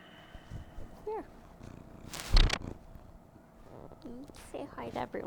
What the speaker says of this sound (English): Lisa's here to purr into the mic for you guys